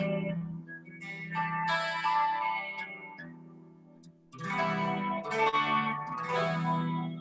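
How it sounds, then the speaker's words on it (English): Clean electric guitar picks out shimmering chords and arpeggios, soaked in chorus and a lingering reverb wash, played alone with a brief pause midway. "another clean patch which has got a bit more chorus on and reverb on, so it's a wetter patch"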